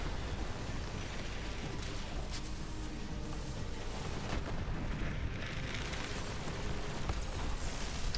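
Explosions and bursts of gunfire from the video game Borderlands 3 roar continuously, a dense, loud barrage of booms and blasts with no pauses and no talk.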